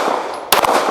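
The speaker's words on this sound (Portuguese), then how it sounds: "Opa, escapou um tiro aqui." A single sharp accidental gunshot rings out at an outdoor shooting range, a loud close blast with a short echoing tail that cuts abruptly into a quiet background.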